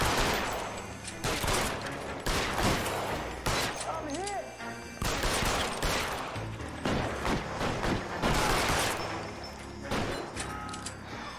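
Repeated gunshots in an L.A. Noire shootout crack out in irregular volleys of loud, sharp blasts, some closely spaced, with a short gap and brief mechanical clatter between bursts.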